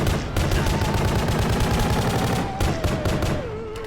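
Continuous rapid gunfire pouring into a boss in They Will Find You, loud and unbroken for nearly four seconds with only a momentary pause partway through.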